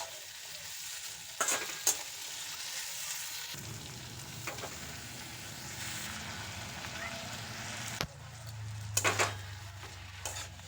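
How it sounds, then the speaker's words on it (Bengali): Half-cooked vegetables, tomato and broken wheat (daliya) for khichuri being stirred in a pot over a constant sizzle, with scraping strokes and a few louder clanks of the spoon against the pot. "এবার সবকিছু একসাথে নেড়ে চেড়ে নিয়ে খুব ভালো করে মিশিয়ে নেব।"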